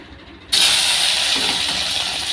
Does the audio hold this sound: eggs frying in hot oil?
yes